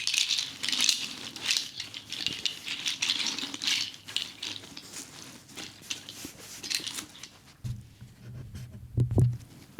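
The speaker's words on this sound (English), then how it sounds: "this is how I actually put my seed rattles in" Seed rattles from a set of sound healing instruments being gently placed into a travel case, giving soft shuffling, scattered seed patter and light knocks, with a brief louder rustle near the end.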